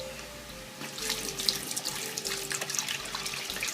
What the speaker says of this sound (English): Now we can go ahead and put in our broth.